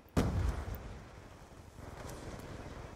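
Gunfire in a first-person shooter video game: a single sharp, heavy report at the start that rings out and fades into a low rumble.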